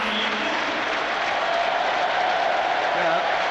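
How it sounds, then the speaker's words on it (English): A football crowd at a Sunderland versus Sheffield Wednesday match applauds a player with a steady, sustained wash of clapping and crowd noise, with a commentator talking over it. "Yeah, applause for him as well"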